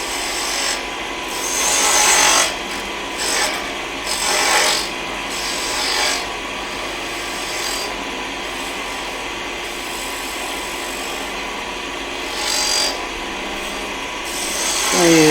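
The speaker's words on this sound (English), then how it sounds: "Although this is side grain, so it'll sand pretty easy." Sanding the side grain of a wooden snowman, a steady close rasping rub that runs throughout with brief louder swells, no talk.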